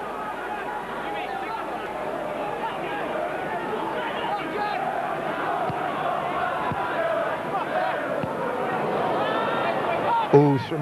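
Football crowd at Roker Park during a 1991-92 Sunderland v Middlesbrough match, a steady dense roar and babble of many voices that swells slightly toward the end with a brief louder burst, oohing at a sliced clearance.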